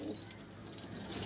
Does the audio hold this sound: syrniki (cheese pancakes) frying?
no